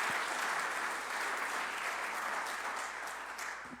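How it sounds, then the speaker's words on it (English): An audience at a government immigration enforcement event breaks into dense, sustained applause that holds steady and then begins to taper off toward the end. "I think that's worth a round of applause for the Trump administration."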